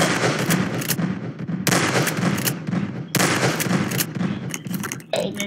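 Pistol fire in Garry's Mod rings out in several sharp bursts, rapid shots in clusters about a second and a half apart, with echoing decay between.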